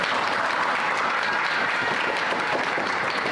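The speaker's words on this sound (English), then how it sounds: "let's give them another round of applause for their purpose today" An audience claps for kindergarten children at a community event, a full, steady wash of applause sustained at even loudness from start to finish with no voices.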